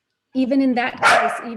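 A dog barks once, sharply and close by, cutting in partway through a woman's speech.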